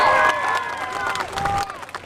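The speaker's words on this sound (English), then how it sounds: "everybody will give you a nice big round of applause" A crowd watching an alligator wrestling show gives a round of applause, a continuous spread of clapping with some cheering voices mixed in, fairly loud and steady, fading slightly toward the end.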